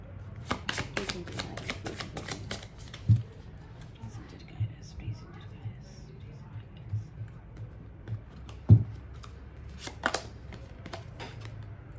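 Tarot cards are shuffled by hand in a quick run of crisp riffling snaps and soft slaps, fairly close but quiet, under a faint low background with occasional talk.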